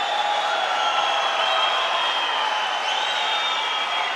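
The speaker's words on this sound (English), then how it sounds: "And the crowd are loving it here, as you can hear in the background." A wrestling championship crowd at the Senior Asian Championships sends up a steady, dense roar of cheering and applause that fills the arena continuously, with a faint whistle-like rise partway through.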